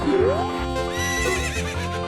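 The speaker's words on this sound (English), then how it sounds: "One lap around the corral with that horse." A horse in The Legend of Zelda: Ocarina of Time gives a loud, close whinny that fills the whole two seconds, over the game's background music.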